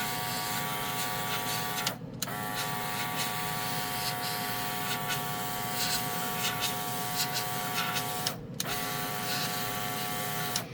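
A steady airbrush hiss sprays paint continuously onto a model, broken by two brief pauses, with a constant whine from the compressor underneath.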